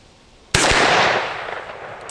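A single sharp .357 revolver shot from a Henry Big Boy, fired outdoors at a range target, cracks loudly up close and trails off into a long fading echo.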